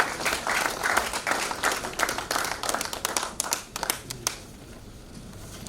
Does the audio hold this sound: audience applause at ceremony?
yes